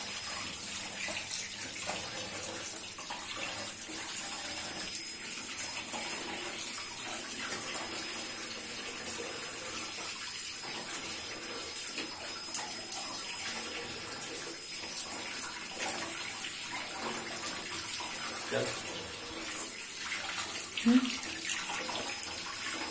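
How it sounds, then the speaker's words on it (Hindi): Tap water runs steadily into a sink while fish are rinsed by hand, a continuous close splashing gush with occasional small clatters and shifts in the flow. "तो देखिए सारी फिश हमने धो ली अच्छे से।"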